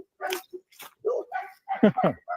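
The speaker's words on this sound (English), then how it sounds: "it was probably the same type of dogs barking" A few short, sharp dog barks come in irregular bursts with brief silences between them, close and fairly loud.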